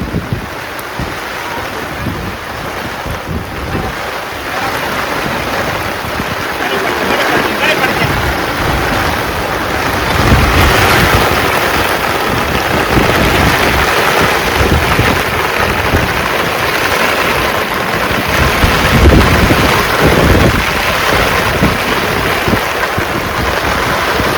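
Heavy unseasonal pre-monsoon rain pours around a shepherd family's camp, water pooling on the ground; a dense, steady roar of rainfall swells louder midway, with occasional low rumbles that may be thunder.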